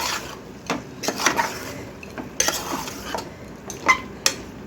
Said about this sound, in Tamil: இப்போ இந்த உருளைக்கிழங்கு போட்டு நல்லா இந்த மசாலாவோட நம்ம வதக்கி விடுவோம்